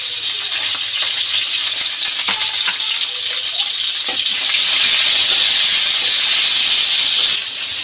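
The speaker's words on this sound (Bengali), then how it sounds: "পটলগুলো একটুখানি ভেজে নেব তেলের মধ্যে দিয়ে" Sliced pointed gourd (potol) frying in oil with salt and turmeric, a loud close hissing sizzle that swells and grows stronger partway through, with a few clinks of stirring.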